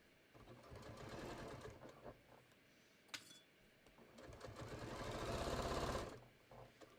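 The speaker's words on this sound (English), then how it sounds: "I'm going to stitch around." A sewing machine stitches a patio cushion cover in steady whirring runs, loud and close, with a brief pause and a small click near the middle before a longer, louder burst that stops abruptly.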